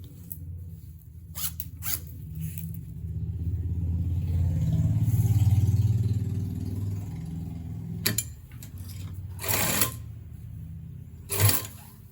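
Sewing machine stitching a zip onto the fly of a pair of trousers: short, sharp bursts of rapid stitching separated by pauses, over a low background hum.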